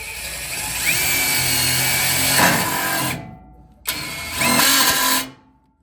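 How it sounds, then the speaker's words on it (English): A power drill runs in two bursts, whining steadily for about three seconds, pausing, then spinning up again briefly before stopping. "It might be easier just to run a drill through there"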